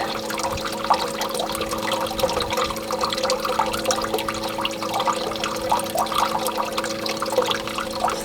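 Water running steadily from an off-grid solar shower during testing, a continuous close splashing hiss with scattered droplet spatter and a faint background hum.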